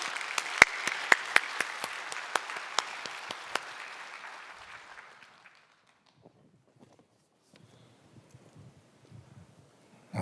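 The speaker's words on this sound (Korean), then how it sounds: "우리 최원빈 집사님 나오실 때 우리 박수로 맞이해 주시기 바랍니다" A church congregation applauds during a Sunday service, the clapping dense at first with sharp, distinct claps standing out, then thinning and fading away over about five seconds, leaving only faint room noise and shuffling.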